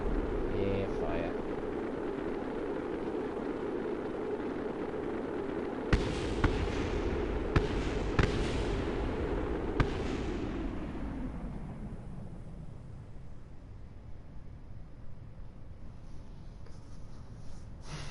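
Dynamite in a video game goes off as a dense rumbling roar for about ten seconds with a handful of sharp blasts, then fades into a quieter background.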